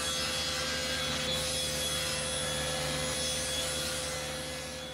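Table saw ripping 3/4-inch birch plywood sheets in half, a steady, fairly quiet whine of blade through wood that holds evenly, then tapers slightly at the end.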